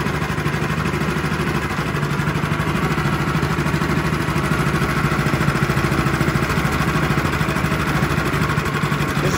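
A Predator 212 small engine idles steadily and loudly up close, a constant rapid mechanical chugging running unbroken as its carburetor is left to burn through the remaining fuel.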